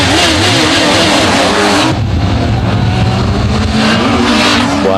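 A fast motorcycle, ridden on a trip from Calais to Cannes, revs loudly during a wheelie. The engine note climbs and surges over five seconds, with a shift in pitch partway through and no talk.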